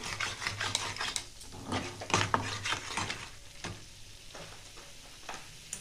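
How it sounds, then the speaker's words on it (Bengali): Potatoes being stirred and fried for Bengali white aloo dum, with repeated scraping strokes of a spatula in the pan over a soft sizzle, close and without talk. "এটা 2 থেকে 3 মিনিট ভালো করে এটা কষিয়ে নিতে হবে।"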